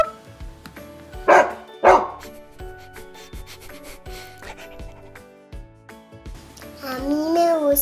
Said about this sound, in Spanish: A mí me gusta el sonido que hace el perro.